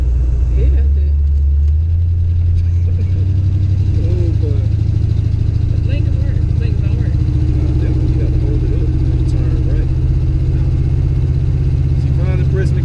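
A Box Chevy's engine rumbles loud and steady while driving, a deep continuous drone that swells slightly as the gas is pressed, with faint voices in the cabin.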